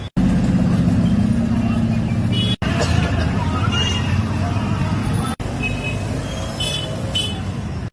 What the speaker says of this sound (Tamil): இந்த பிளேஸில் வந்துட்டு பார்த்தீங்கன்னா மேக்ஸிமம் வண்டி வந்துக்கிட்டே இருக்கும்